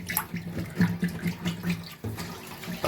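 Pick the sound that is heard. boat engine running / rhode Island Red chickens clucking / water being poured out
water being poured out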